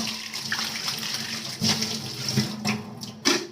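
Tap water runs steadily while a cleaned aluminium container is rinsed under it, with a few brief splashes and knocks against the sink.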